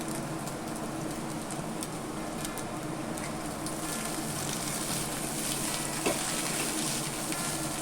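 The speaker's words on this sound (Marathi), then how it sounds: "त्याच्यामध्ये हा भात सगळा आपण नीट मिक्स करून घेऊया।" Cooked rice being mixed into fried, spiced onion in a hot pan, giving a steady, dense sizzle and frying hiss that runs continuously throughout, close and fairly loud, with faint stirring scrapes mixed in.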